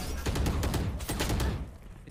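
Rapid gunfire in a Valorant match, a quick series of sharp, evenly spaced shots close up, tapering off toward the end.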